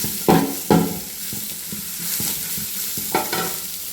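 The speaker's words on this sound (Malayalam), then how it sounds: "ഞാൻ കുറച്ച് സവാള നന്നായിട്ട് വറുത്ത്" Sliced onions fry in a pan for a cauliflower curry, with a steady close sizzle. A spoon scrapes and stirs them in several sharp strokes, near the start and again toward the end.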